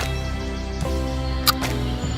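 A camera shutter fires for a half-second exposure at f/6.4 and ISO 800 on an outdoor photowalk, giving soft mechanical clicks about a second apart over a steady background hum.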